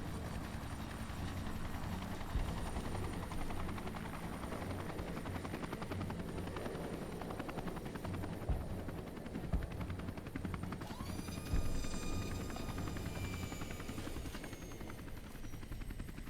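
A vertibird aircraft in Fallout: New Vegas lands with a steady, continuous rotor drone and engine whine, moderately loud and unbroken, a rising tonal whir joining partway through.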